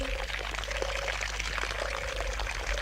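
Water runs steadily from an opened tap, a continuous even rush with a faint hum beneath it and no break.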